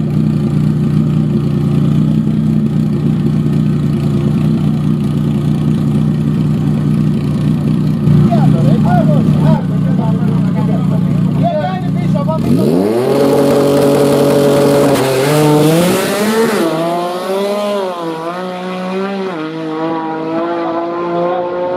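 A Nissan GT-R drag car makes a 7.9-second pass on a drag strip, idling with a loud steady drone before launching into a roaring rev that climbs sharply and carries on at full throttle.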